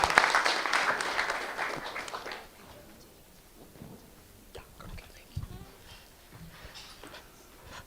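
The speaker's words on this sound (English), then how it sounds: "Let's clap hands from Mlanvo." An audience at a technology seminar claps for an introduced speaker, with dense applause for about two and a half seconds that then fades into a quiet room with scattered taps and small noises.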